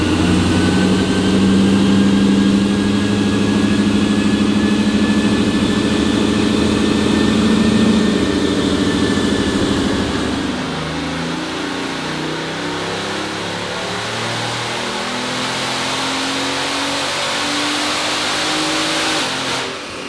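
A Bugatti Veyron that was rebuilt after flood damage runs under load on a dyno, a loud sustained engine roar with rising tones that drops after about ten seconds into a lower rumble, with no talk.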